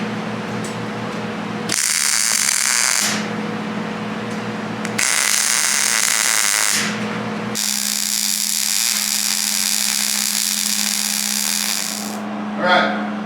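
MIG-style welding bursts on stake sides and D-rings for a 1996 Ford F-250 bed, several steady crackling runs of a few seconds each separated by short pauses, close and fairly loud.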